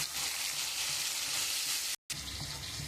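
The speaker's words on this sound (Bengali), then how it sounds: "মশলাটা দিয়ে আমি খুব ভালো করে কষিয়ে নেব।" Potatoes fry with spice paste in a pan, a dense, close, continuous hiss and crackle that cuts out for a split second near the end, then resumes.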